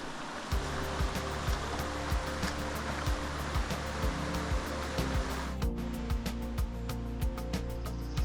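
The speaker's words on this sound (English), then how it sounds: "Lost Cove Creek passes Campsite 90 as it empties into Eagle Creek and Fontana Lake." Lost Cove Creek runs past a backcountry campsite in the Great Smoky Mountains, its water rushing in a steady, close, broadband wash with regular faint ticking through it and no voices.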